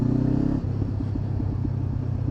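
Honda CB500F motorcycle fitted with an Arrow exhaust, idling or running at steady low revs close by, with a throbbing pulse after a brief higher blip at the start.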